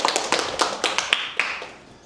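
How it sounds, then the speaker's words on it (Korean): A short burst of scattered applause welcoming a speaker at a Korean Buddhist dharma talk, a handful of distinct, fairly close hand claps that thin out and fade within two seconds. "박수로서 환영."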